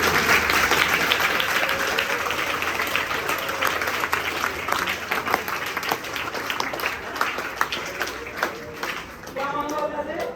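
An audience in a school hall claps through a religious lecture on the Prophet's life, with sustained dense applause running for several seconds under a speaker's voice before fading.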